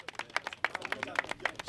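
Crowd at a church gathering clapping in quick, uneven bursts, moderately near, with faint voices mixed in.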